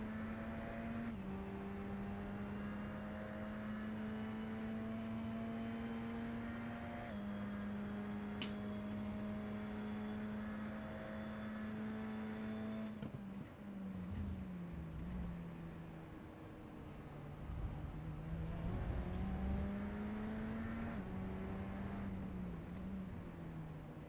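A Radical SR10 race car laps Road America from the onboard position, its engine droning steadily and shifting pitch through gear changes, with revs dropping and climbing again through corners, loud and continuous.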